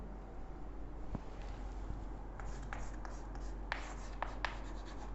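Chalk or pen writing out a limits maths problem during a lecture, a quiet scratchy stream of strokes with sharper taps and clicks growing more frequent toward the end, no talking.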